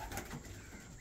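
Young white pigeons coo softly in a cluttered loft, with low murmuring calls running continuously under faint background noise.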